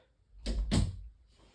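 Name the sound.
door being closed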